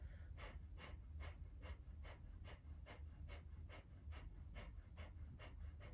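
Rapid rhythmic pumping breaths during a Kundalini yoga breathing exercise, about a dozen sharp, evenly spaced exhales close and fairly faint, with no talk.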